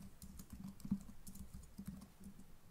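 Steady, fast typing of HTML code on a computer keyboard, a close, even patter of keystrokes running through the whole clip with no talking.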